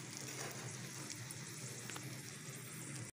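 A cheesy chicken vegetable omelette sizzling in a pan, a steady, fairly quiet frying hiss with scattered pops and crackles, uninterrupted and without voices.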